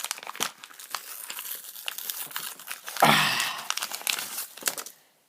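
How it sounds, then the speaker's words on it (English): A plastic package stabbed with a screwdriver and torn open by hand, giving close, continuous crinkling and crackling with a sharp ripping burst midway before it falls silent. "and then rip it open like you mean it."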